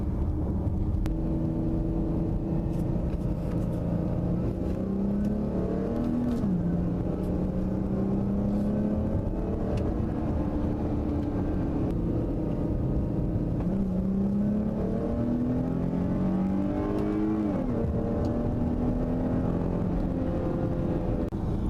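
A 2017 Chrysler 300 cruising on main streets, its engine humming steadily beneath constant road noise, with gentle rises in pitch as it accelerates and shifts through gears.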